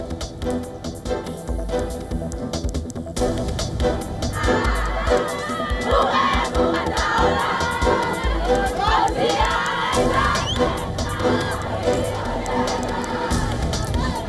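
Crowds in Tel Aviv celebrating the release of hostages, a large outdoor throng of shouting and cheering voices rising and falling, dense and loud throughout.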